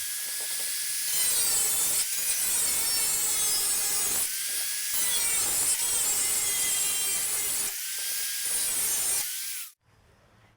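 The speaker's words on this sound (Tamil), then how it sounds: "இதை மட்டும் நம்ம ஆங்கிள் கிரைண்டர் யூஸ் பண்ணி கட் பண்ணி எடுத்துக்கலாம்" An angle grinder cutting the top off a metal oil tin, a loud, continuous, harsh screech that pauses briefly a few times and then stops abruptly near the end, close by with no talking.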